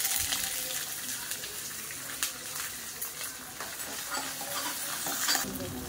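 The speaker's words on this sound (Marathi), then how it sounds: "आता आपले शेंगदाणे आणि स्वीट कॉर्न जे आहे ते मस्त तेलामध्ये फ्राय होतात" Peanuts and sweet corn sizzle in hot oil, a close, steady frying hiss broken by frequent stirring scrapes and clatters, with no voices.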